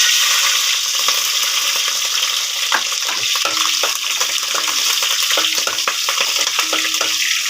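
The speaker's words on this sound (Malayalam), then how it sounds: "കടുക് പൊട്ടിയിട്ടുണ്ടേ" Mustard seeds splutter and green chillies fry in hot oil for a Kottayam-style fish curry, a continuous loud sizzle with scattered sharp pops and crackles throughout, no one speaking.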